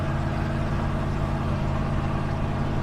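A straight-piped truck with twin MagnaFlow mufflers, one on each bank, idling with a deep, steady throbbing exhaust rumble, close and continuous.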